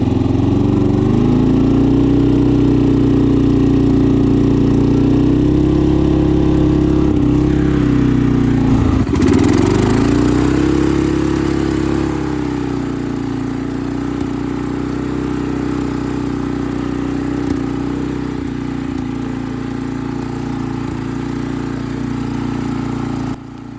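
A homemade 4x4 mini Jeep's small engine drones loudly and continuously as it crawls up a hill off-road, its pitch dipping and rising with the load around the middle and then settling into a steady labouring hum.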